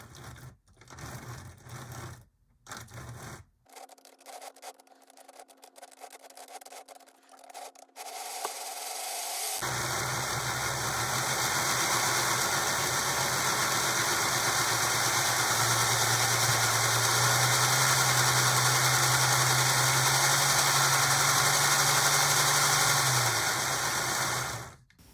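Small electric motor of a model train locomotive, a Tyco 1776 EMD E9A or similar HO unit, running steadily on track with a continuous whirring hum after some earlier intermittent clicks and stops.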